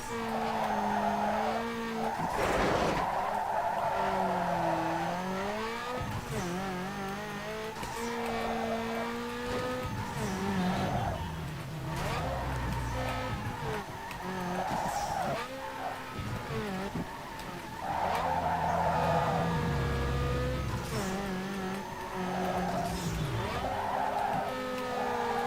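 A car drifting in Need for Speed, tires squealing almost continuously in long wavering howls over a revving engine, loud and close with shifting pitch through successive corners.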